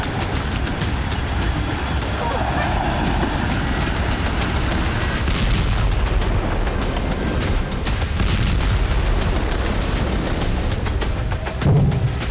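A dense, continuous roar of distant blasts and booms from a Russian missile strike on Kyiv, Ukraine, rumbling heavily with repeated impacts and a brief louder burst near the end.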